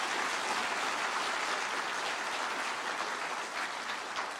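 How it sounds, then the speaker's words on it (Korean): Sustained, dense applause from an audience at a university president's inauguration ceremony at POSTECH, holding steady and loud from start to finish with no talking. "참석하신 네 기분을 다시 한번 큰 박수로 환영해 주시기 바랍니다"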